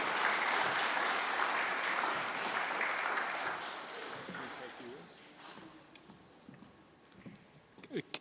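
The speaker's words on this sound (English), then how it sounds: "And so maybe we have a round of applause to Mihi Te Tākina for taking involvement in" Audience applause at a conference day, a broad steady wash of clapping that gradually thins and tapers off into scattered claps and light noise.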